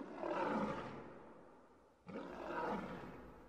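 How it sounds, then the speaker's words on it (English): A lion gives two deep, rasping roars, each swelling and then fading over about two seconds, close and loud with nothing else around them. "A lion."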